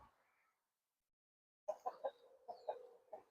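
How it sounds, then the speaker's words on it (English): After a quiet pause, chickens cluck in a series of short, soft bursts nearby, a few irregular calls close together. "see how the chickens are doing early this morning"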